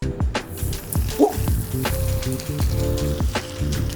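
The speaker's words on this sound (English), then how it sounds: "You hear that sizzling?" Steady crackling sizzle of A5 Wagyu steak on a hot grill in Japan, with scattered pops and faint clicks throughout.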